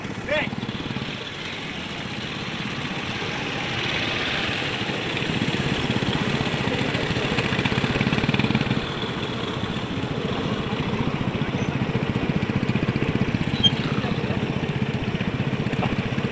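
A low motorcycle engine idles steadily throughout at a mini marathon, with muffled voices and background activity mixed in under the drone.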